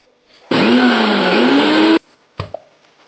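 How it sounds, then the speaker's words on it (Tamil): A loud mixer grinder whirs steadily for about a second and a half grinding a paste for pani puri, then cuts off abruptly, followed by a couple of short clunks. "மிக்ஸி ஜாரில் போட்டு பேஸ்ட் பண்ணிக்கணும்"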